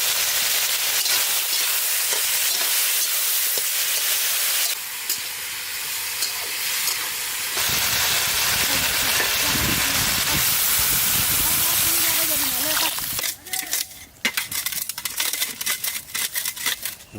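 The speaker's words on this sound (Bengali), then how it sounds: "বাড়িতে রান্না করার সময় কড়াইতে এইভাবে শুকনো জিরে ভাজে নেয়" Dry cumin seeds fry in a kadai with a loud, dense, hissing crackle, a continuous close sizzle whose texture shifts partway through and grows choppier toward the end while a person speaks over it.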